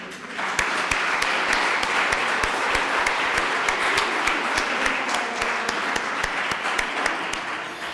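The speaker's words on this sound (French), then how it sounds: "On les applaudit très très fort." A gala audience gives young award winners at the Prix Leviers 2023 ceremony a loud, sustained ovation. Thick applause fills the hall throughout, with sharp individual claps popping out above the steady wash.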